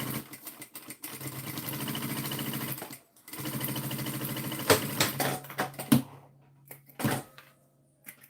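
Sewing machine stitching around an overnight bag, running in close bursts of rapid rhythmic clatter that stop and start, with brief pauses and handling knocks in between.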